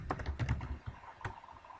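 Typing on a computer keyboard, a quick burst of several close, light key clicks followed by a couple of isolated taps; faint and alone.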